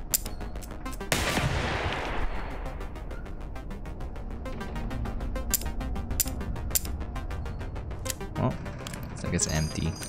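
Automated turret gunfire in the first-person gun simulator game Receiver 2, heard as an opening burst followed by a dense run of rapid sharp shots with scattered louder cracks.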